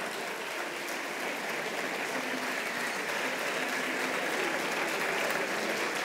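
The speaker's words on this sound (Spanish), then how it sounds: "Fuerte el aplauso para Ana Ruth González Hernández de la isla de Tenerife" A hall audience applauds a performer at a folk festival gathering, a dense and even sheet of clapping that holds without a break for about six seconds at a moderate, somewhat distant level.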